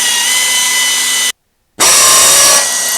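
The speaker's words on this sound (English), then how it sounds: "let's just drill the pilot holes for this" A power drill whirs steadily at close range drilling pilot holes for an Oldsmobile 442 radiator and cooling fan mount, stops briefly for a moment of silence, then starts up again and keeps running.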